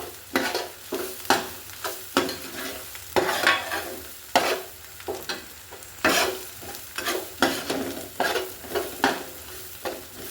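Beef is stirred and fried with spices in a pan for a pickle. A spoon scrapes in repeated rhythmic strokes through a soft continuous sizzle, close and moderately loud, with no talking.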